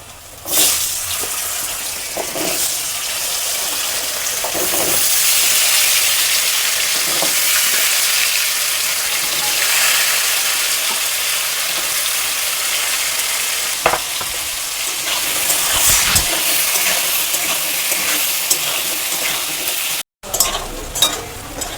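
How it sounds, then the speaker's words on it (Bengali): Potatoes sizzle and crackle steadily in hot oil for a long stretch, with occasional clinks of stirring, close up and without talk. "এবার আমি আলুগুলোকে ভেজে নেব।"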